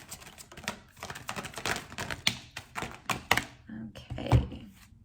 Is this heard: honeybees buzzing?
no